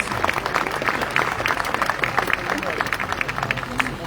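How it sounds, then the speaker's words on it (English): Crowd clapping at a Canada Cup under-19 softball event, uneven and fairly close, with murmuring voices mixed in under the applause. "Please, another round of applause for all these great folks."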